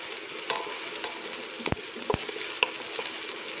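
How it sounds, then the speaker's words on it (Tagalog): Pompano sizzling steadily in a hot pan while being stirred for sweet and sour fish, with a few soft scraping knocks of the utensil over a constant frying hiss. "Halo ng halo."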